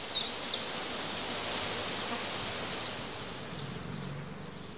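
Honeybees from a prime swarm flying around a heather skep apiary, a steady, diffuse hum spread through the air with faint rustling and a few brief higher buzzes passing close by, no voices.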